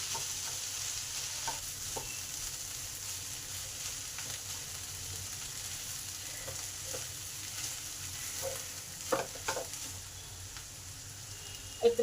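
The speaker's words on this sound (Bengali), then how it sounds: "এবার সব শুকনো একসঙ্গে মিশিয়ে নেব।" Dry spices and filling ingredients for a fish roe momo mix being stirred together in a bowl or pan, a soft steady hiss under scattered faint scrapes and taps, with a couple of sharper knocks near the end.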